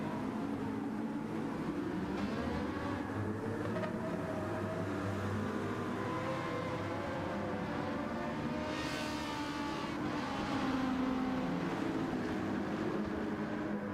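Audi R8 engine in Gran Turismo 7, a moderate, continuous roar with tonal whine rising and falling through gear changes, swelling a bit louder near the end, with no talking.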